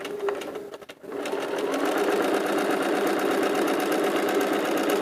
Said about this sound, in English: you know you're going to sew straight because you've got a line to sew on